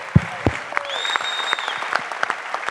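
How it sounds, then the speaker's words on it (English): Brief round of applause in an auditorium for a champion fighter at a fan Q&A, scattered claps over a crowd murmur with a couple of sharper hits and a faint tone drifting through. "Little round of applause for our champ here."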